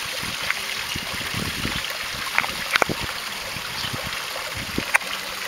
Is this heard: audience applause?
no